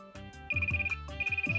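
A phone ringtone plays indoors, a bright repeating electronic melody of short chiming notes with a high sustained tone, loud and alone.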